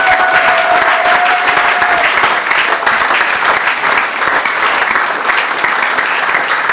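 A church congregation bursts into loud, sustained applause and cheering for the Lord, a dense wash of clapping from many hands filling the room, steady throughout with no one speaking.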